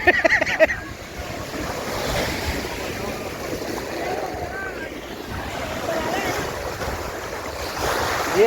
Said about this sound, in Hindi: ये है धनुषकोडी का समुद्र।